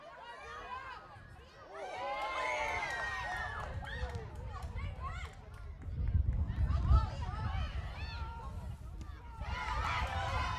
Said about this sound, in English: Crowd getting rowdy here at Durfee. The Hilltoppers fans getting louder as the game goes on.